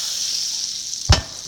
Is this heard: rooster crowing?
no